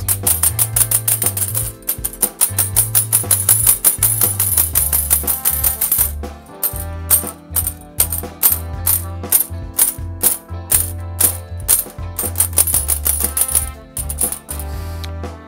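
A chocolate-glazed royal entremets is tapped repeatedly to settle the glaze, making loud, sharp, rapid clicking knocks in a fast, even rhythm that briefly pauses and then continues in quicker bursts.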